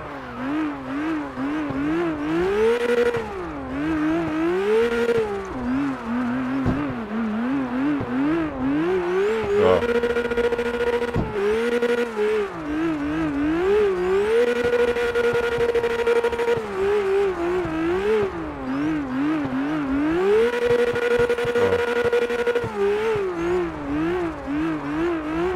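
A car engine in CarX Drift Racing revs and holds high while drifting, its pitch climbing and dipping in repeated sweeps, loud and continuous throughout with no talk.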